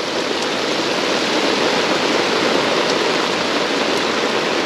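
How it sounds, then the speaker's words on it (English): Heavy rain bucketing down during a fishing trip on flooded water, a loud, dense and steady hiss of pouring rain close around, unbroken and with no talk. "Well, Mother Nature has certainly turned it up a notch. Absolutely bucketing down right now."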